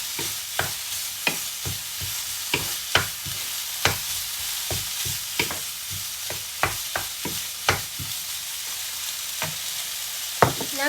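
Chili being stir-fried in a pan while making a Thai bamboo shoot curry with pork belly and oyster mushrooms: a steady sizzle broken by sharp, irregular scrapes and clacks of the utensil against the pan, close up and with no voices.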